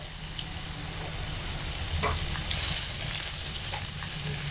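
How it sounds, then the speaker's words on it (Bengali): A little water goes into moong dal cooking in a pot, bringing a continuous close sizzling hiss with a few faint knocks, and no voices. "এখানে আমি আরেকটু জল দিয়ে দিচ্ছি অল্প করে"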